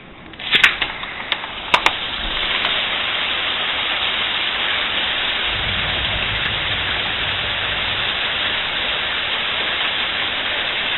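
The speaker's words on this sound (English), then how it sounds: "It is pouring." Heavy rain pours down steadily during a thunderstorm, a dense, constant hiss of water with a few sharp knocks near the start and a low rumble partway through.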